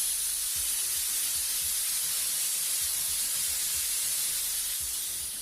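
An airbrush spraying paint gives a steady, close hiss that holds evenly throughout with no talk over it.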